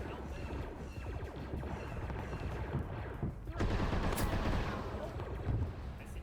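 Gunfire during a Star Wars Rebels video game bank robbery session, a dense, continuous barrage of rapid shots and booming impacts over a loud, cluttered game soundscape with no clear talk.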